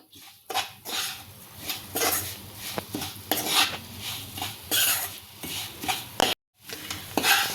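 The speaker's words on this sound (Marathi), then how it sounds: "हे अशा पद्धतीने आपल्याला बारीक गॅसवर सतत हलवत राहायचंय." Moong dal flour cooks in plenty of ghee in a pan over low heat, stirred continuously with a metal spoon that scrapes and clinks against the pan in a busy, close rhythm, with a faint sizzle underneath.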